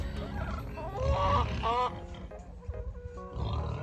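Chickens cluck and squawk nearby in short, uneven bursts over low background noise.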